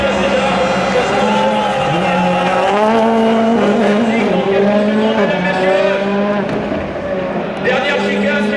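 A rally car blasts through the final chicane at the Rallye de France, its loud engine rising and dropping through gear changes under excited commentary.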